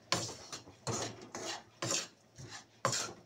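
Rhythmic scraping strokes of a spoon stirring rice flour laddu mixture in a hot kadhai, about six rasping bursts close up with short pauses between.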